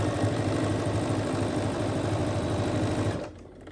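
A sewing machine runs steadily while stitching a quilt, a continuous close whirring hum lasting over three seconds before it stops abruptly, leaving near silence.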